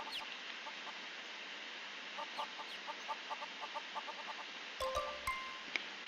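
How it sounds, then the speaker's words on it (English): Chickens cluck in quick repeated bursts over a steady synthetic hum, with a few brighter electronic blips near the end, in the online game Mabinogi. "These from these noisy chickens."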